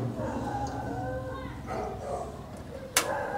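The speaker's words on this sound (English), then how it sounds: "A million damn dogs." Several dogs bark and yip in the distance around an outdoor cooking spot in the Philippines, their calls blending into steady background noise, with a brief sharp sound near the end.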